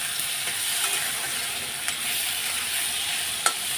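Onions and taro stolons fry steadily in a pan with a bright, even sizzle, broken by a few faint clicks and scrapes. No one speaks.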